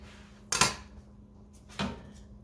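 An oven door being closed after bacon goes back in, two separate clattering thumps about a second apart, moderately close, against a quiet kitchen hum.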